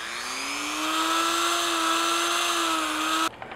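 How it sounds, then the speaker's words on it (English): High-pitched rotary tool whine with a stone bit, carving a small divot into foam for a prop iron war axe; one steady, close grinding drone for about three seconds, then it cuts off abruptly. "I'm gonna go ahead and put my little divot right there with my stone bit."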